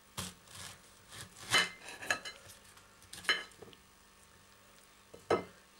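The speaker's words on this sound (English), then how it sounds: "just cut it into slices, just so you've got enough slices to cover the bottom of your pan" A knife slices through a pineapple on a board, producing a handful of crisp, separate cutting thuds and scrapes at an uneven pace, close and fairly quiet.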